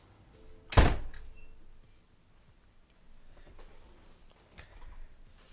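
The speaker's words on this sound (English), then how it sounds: "I'm gonna close this door because it's like I hear cars outside." A door in a visual novel game shuts with one sharp, heavy thunk near the start, followed by quieter, faint ambient clicks and rustles.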